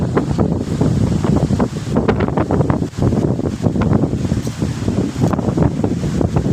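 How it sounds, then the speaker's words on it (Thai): Strong wind gusts through trees at a Buddhist temple in Lampang, Thailand, a loud, constant roar with rushing and buffeting, close to the microphone and not broken by any voices. "ลมพัดลมแรง"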